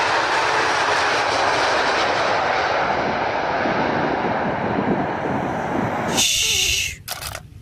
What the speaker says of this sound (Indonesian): kalau yang ini pesawat luar negeri China Airlines